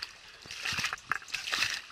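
Hiking boots splash through a shallow mountain stream in the Pádis area of the Bihor Mountains, a quick run of close, irregular splashes and sloshes.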